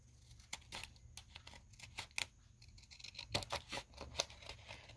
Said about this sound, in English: I'm just going to trim that edge right down that.